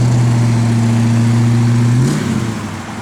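A 1971 Ford Mustang Boss 351 V8 holds a loud, steady, deep engine drone close by, then its pitch drops and the note falls away as the revs ease off near the end.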